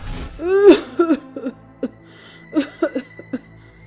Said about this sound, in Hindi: फुटपाथ पर बैठी बुढ़िया खांस रही होती है